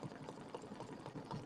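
An embroidery sewing machine stitching the tack-down line for a small heart on a bench buddy project, giving a steady, close mechanical whir and rapid needle rhythm with no talking.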